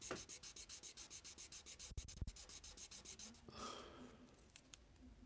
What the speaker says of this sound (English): I'm going to just give that a quick sand. Use a 600 grit stick. Just carefully smooth that.